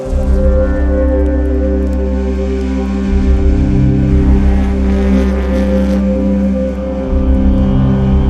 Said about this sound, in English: the cars seem to sound a little more racy